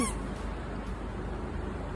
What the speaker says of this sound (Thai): นี่นะคะมีเป็ดน่ารักไปดูเป็ดกันเป็ด